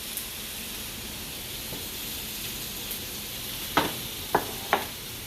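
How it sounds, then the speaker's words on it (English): Turkey sausage sizzles in a pan with a steady, quiet frying hiss throughout, broken near the end by a few sharp pops and spatters. "I'm going to start cooking my sausage"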